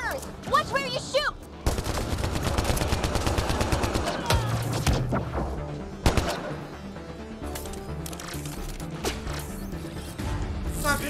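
Sustained gunfire crackles through a firefight in the sci-fi shooter Mass Effect: Andromeda, with loud, dense automatic bursts and scattered sharp shots layered with mechanical clatter.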